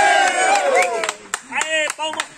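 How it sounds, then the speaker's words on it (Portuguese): Workshop crowd claps and cheers for a guest, a burst of applause mixed with shouting voices, lively and close, with speech-like calls riding over the clapping throughout. "Aê, palmas pro Dom Cássio!"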